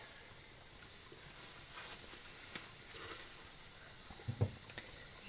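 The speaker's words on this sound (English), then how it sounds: "These are boiling." A steady hiss of boiling water in a Carey canner with jars of meat fills the background, with faint bubbling and occasional soft clinks from the pot, no talking.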